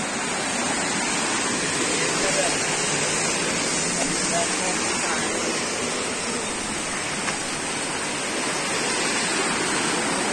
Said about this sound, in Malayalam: എന്താ വെള്ളം വന്ന് ഒഴുകുന്ന സ്ഥലം കണ്ടാ